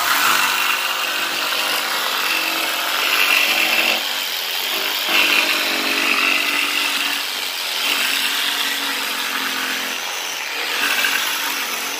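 A power tool cuts through a vehicle panel or door with a harsh, continuous high-pitched grinding whine, loud and close, swelling and easing as the cut moves along.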